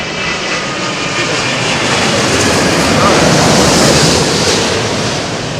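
Boeing 787 Dreamliner jet at London Heathrow, a broad steady roar of engine noise that swells slightly toward the middle and holds loud throughout, with wind buffeting the microphone.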